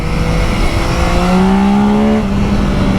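A Yamaha Tracer 9 GT motorcycle engine revs up loudly and nearby, its pitch climbing and then dropping as the quickshifter changes gears quickly.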